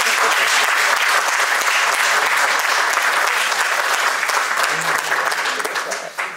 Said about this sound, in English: Please give this lady a round of applause